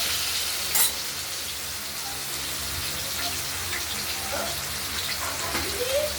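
Potatoes fry with spices and tomato in a pan, giving a steady, close sizzle with fine crackles throughout and one brief sharper pop near the start.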